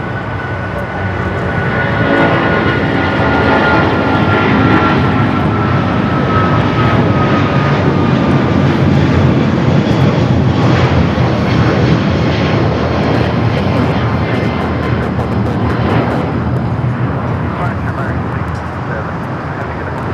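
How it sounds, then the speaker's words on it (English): Powerful, sustained jet roar from an American Airlines Boeing 777 rolling down the runway on takeoff at LAX for Dallas-Fort Worth, swelling slightly mid-run with a faint whine above, while voices talk intermittently over it. "American 777 now rolling down"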